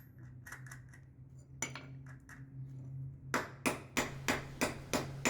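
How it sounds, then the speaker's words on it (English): A steel anchor bolt is driven into a drilled hole in a newly built wall with a hammer, metallic strikes at first scattered and quiet, then a loud evenly spaced run of ringing blows whose pitch shifts as it seats. "you can hear the tone change when he's hammering that bolt in"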